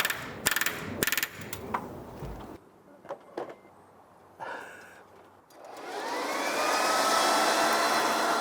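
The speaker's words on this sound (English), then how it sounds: "we're gonna blow the gutters clean" A blower clears debris from house gutters, starting after a few clattering knocks and rising into a steady, loud whooshing roar that holds to the end.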